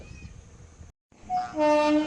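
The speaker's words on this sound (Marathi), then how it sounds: "आय ट्रेन इली एक्सप्रेस इली एक्सप्रेस एक्सप्रेस" A train rumbles nearby, then a horn sounds loudly in long tonal blasts as it rushes past after a brief gap.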